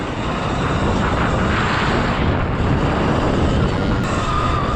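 A modded Sur Ron XX electric dirt bike pulls hard out of a corner, a loud, steady rushing whine and broadband roar that holds for several seconds, close by, with no talk.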